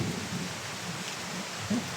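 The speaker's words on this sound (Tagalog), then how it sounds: "Lumalakas na yung ulan." Steady heavy rain pouring outdoors in the mountains near a hut, a constant wide hiss with a faint low rumble, no voices.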